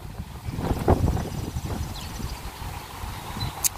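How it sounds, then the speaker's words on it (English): Steady wind rumbles and buffets close by, a low roaring gust with fluttering noise and no voices. "My goodness, it's such a windy day."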